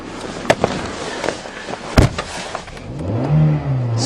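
A Toyota Corolla with diesel mistakenly put in its gas tank pulls away, a low rough engine rising under sharp knocks and clunks before the revs climb near the end.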